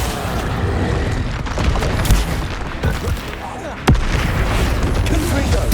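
An Accio summoning spell cast during combat in the video game Hogwarts Legacy: a quick magical pulse within steady booms and gunfire-like impacts, with a hard crack near the end and a voice calling out over the clamor.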